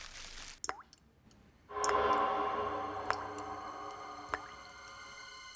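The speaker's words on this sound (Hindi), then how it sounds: "शायद कुछ टपकने की आवाज आ रही" Scattered water drips land in a quiet indoor room, a few sharp isolated plops and ticks over a faint hum that rises midway through.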